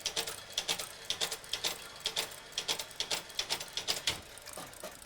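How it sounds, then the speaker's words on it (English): Printer of the Harwell Dekatron WITCH computer, a vintage relay-based machine, printing out a result: a rapid, fairly loud run of sharp mechanical clacks and taps in irregular bursts, typewriter-like, with no voices. "And now that's being printed out on the printer."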